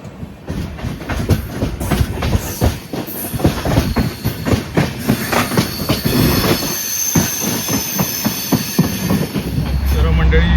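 An Indian Railways train pulls away from Sangameshwar Road station on the Konkan route, with a steady loud rumble of wheels on track, rhythmic clacks over rail joints and occasional metallic squeals, continuous throughout.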